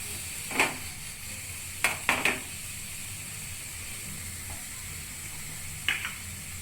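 Vegetables sizzle in a pan over a lowered flame for Italian pasta, a steady soft frying hiss broken by a few sharp clinks and scrapes of stirring.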